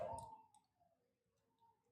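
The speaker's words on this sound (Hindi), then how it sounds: "नीचे ले आए माउस, इस पॉइंट को ट्रैक कर लिया, क्लिक क्लिक" Computer mouse clicks while drawing in AutoCAD: a couple of close, quiet clicks near the start, then faint ticking and light clicks over a soft background.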